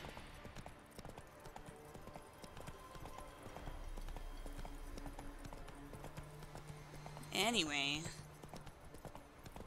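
A horse trots with clip-clopping hooves in The Witcher 3 video game, with steady hoofbeats under speech, followed by a loud whinny near the end.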